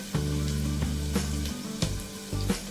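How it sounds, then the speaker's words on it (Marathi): Onion sautéing in a pan for a green moong dish, a close steady sizzle with a few sharp stirring scrapes and clinks, no voices. "कांदा थोडा लाल होत नाही तोपर्यंत तरी आपण परतूनच घेऊया"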